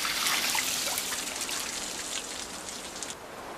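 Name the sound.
water dousing wood racks to grow ice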